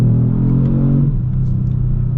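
A 2021 Kia Stinger GT2 accelerates hard in sport mode, its engine roaring loud and close with a rising tone that drops at a gear shift about halfway through, then keeps pulling strongly.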